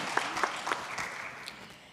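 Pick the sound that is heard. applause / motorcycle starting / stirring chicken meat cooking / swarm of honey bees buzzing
applause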